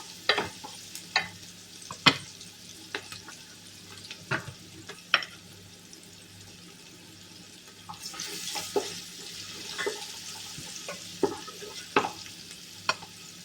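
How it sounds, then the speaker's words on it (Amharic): Onions frying in a pan until brown, a soft steady sizzle broken by scattered scrapes and clicks of stirring, louder in a busier stretch toward the end. "እንደዚህ በደንብ አድርገን ሽንኩርቱ ብራውን እስከሚሆን ድረስ እንጠብሰዋለን ማለት ነው"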